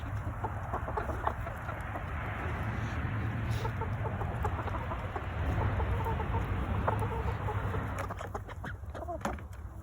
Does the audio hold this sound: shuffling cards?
no